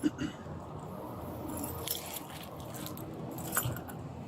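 Keys jangle faintly during a pocket search, a few soft metallic clinks over low background noise.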